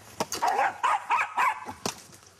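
A pet dog named Jack barks repeatedly, several sharp close barks in an uneven run, yelping at a ball tied to a string in a home game of Jokari.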